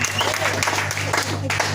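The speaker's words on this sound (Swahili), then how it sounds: "Wapigieni wachungaji makofi mazuri." A church congregation applauds its pastors during a service, steady dense clapping filling the whole moment at fairly close range, with a continuous low hum running underneath.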